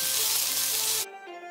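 Prawns fry in a pan for Singapore pepper prawns, a close, bright sizzle lasting about a second before it cuts off abruptly, leaving only a quieter, thin hiss.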